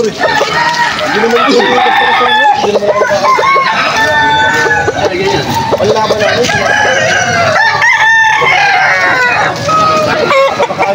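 Roosters crow repeatedly at a crowded Sunday cockfighting gamecock market in Malolos, Bulacan, their calls loud and overlapping amid constant chatter and haggling voices nearby.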